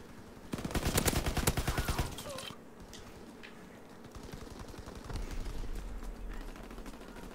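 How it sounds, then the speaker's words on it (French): Rapid bursts of gunfire from the WWII-era video game Call of Duty WWII, a loud automatic volley early on, then quieter scattered shots and rumbling battle noise continuing throughout. "J'ai tiré à côté du mec."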